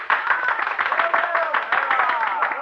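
Applause in a classic radio drama greets the detective Maître Verdocq: a short burst of clapping from a crowd with voices mixed in, close and lively throughout.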